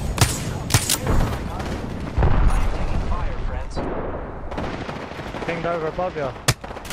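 Rapid gunfire crackles through a shooter game match in loud, dense bursts with sharp individual shots, while players talk over the action.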